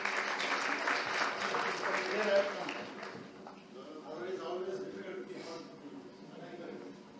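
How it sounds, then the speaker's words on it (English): Audience applause breaks out at a business summit panel: a dense burst of clapping that fades after a few seconds, then rises again more softly, with a voice speaking over the hall. "With a big round of applause,"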